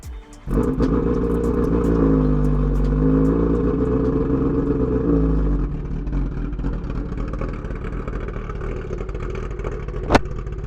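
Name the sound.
motorcycle with loud titanium exhaust revving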